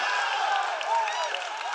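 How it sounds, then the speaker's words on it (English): Steady crowd noise fills a college basketball gym during a Lehigh Carbon versus Luzerne game, a continuous roar of cheering and clapping at moderate distance. "Crowd getting into it as well."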